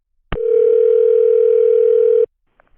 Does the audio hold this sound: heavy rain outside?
no